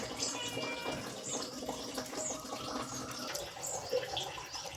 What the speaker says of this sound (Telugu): బట్టలు నానబెట్టేసానండి ఉతకేసేయాలి ఇప్పుడు